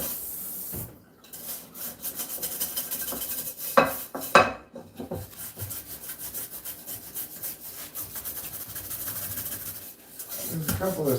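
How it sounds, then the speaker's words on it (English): Dishes scrubbed with a soap-dispensing scrubber, a close, uneven rasping and rubbing with clinks of pots and cutlery, loud knocks in the middle, and a voice speaking over parts of it. "This kind of scrubber that holds soap within inside of it, and so you can push down on the top and it'll squirt some more soap into the thing for you."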